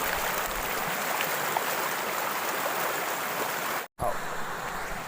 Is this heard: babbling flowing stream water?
yes